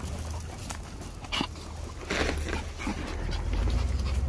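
Several stray dogs in a small yard pant and snuffle close by while eating handed-out snacks, with faint whimpers and soft shuffling, no talk.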